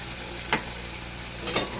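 Spice paste and fried potatoes sizzle steadily in a pan while a spoon scrapes through them twice, about a second apart, each stir a short, near, rasping sweep over the constant frying.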